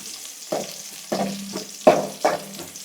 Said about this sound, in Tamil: பூண்டு நல்லா ஃப்ரை ஆகணும், நல்லா பொன்னிறமாக வந்ததுக்கப்புறம் வெங்காயம் சேர்த்துக்கணும்